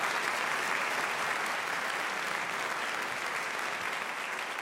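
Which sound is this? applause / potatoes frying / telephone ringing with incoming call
applause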